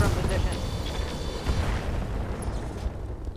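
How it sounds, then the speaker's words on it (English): Bomb mines detonate in the video game Roguetech, producing a dense rumbling explosion that fills the scene and then settles into a continuous low roar, with a voice speaking over it. "Bomb mines explosion."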